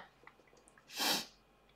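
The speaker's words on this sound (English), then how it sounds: "hold on, I'm going to sneeze" A single quick human sneeze, a short sharp burst of air after faint breathy noise, fairly quiet and close, with no talking.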